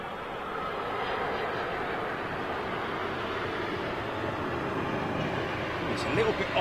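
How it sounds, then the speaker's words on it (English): An American Airlines Boeing 787 Dreamliner at London Heathrow gives a continuous, even jet roar heard from a distance, steady from start to finish. "American Dreamliner."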